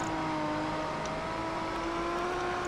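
A TVR sports car's engine in Project Gotham Racing 4 drones at a steady high pitch, holding a sustained rev with a faint tonal whine, no voices over it.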